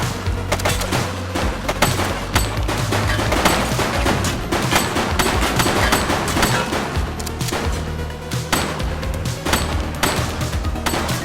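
Sustained automatic gunfire rips through a firefight in the police game The Precinct. Dense, loud machine-gun bursts and scattered single shots come close together, with no talk over them.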